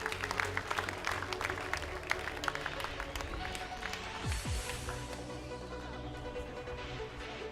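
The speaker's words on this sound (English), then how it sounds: "Round of applause for the team" An audience at a school debate grand final applauds the Lae Secondary School team, with dense, lively clapping and crowd noise that gradually thins over several seconds.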